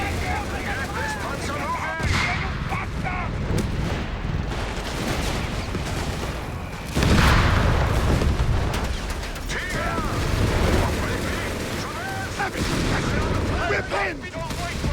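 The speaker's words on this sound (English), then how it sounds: "Anti-tank fire!" Anti-tank fire and heavy booms in a Company of Heroes 3 battle on the African front, with rolling explosions and gunfire, a big blast near the middle, and soldiers shouting over the din throughout.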